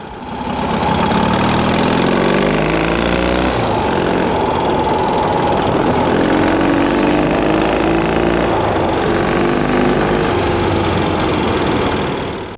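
A Triumph Desert Sled motorcycle engine runs steadily and loudly at close range, its rough, throbbing note holding constant with a slight rise and fall as the bike is ridden in third gear, with no voices.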